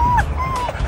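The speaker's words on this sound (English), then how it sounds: "Hey, no barking." A dog at a Starbucks counter gives a short high whimpering whine and a quick yip, close and brief over a low background hum.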